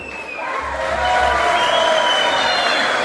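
Audience at a club consular gathering in Lagoa Vermelha greets a speaker with loud, sustained applause mixed with cheering and crowd noise.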